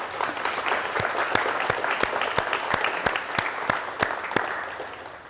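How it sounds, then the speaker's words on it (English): A company meeting audience gives a steady round of applause, dense overlapping claps with a few sharper nearby hand claps standing out, moderately loud and continuing without speech. "I think we should all give them a big round of applause."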